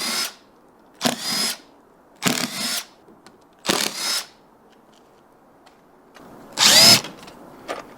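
New power drills driving screws while rebuilding a vintage camper photo booth. Five short, loud whirring bursts, each roughly half a second long, are separated by silent gaps.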